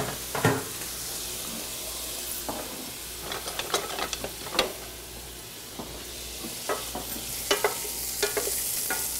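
Drained food hitting a hot pan for a holiday ham dish, sizzling steadily with a hissing wash of frying and several sharp clatters and stirring knocks scattered throughout, close and moderately loud.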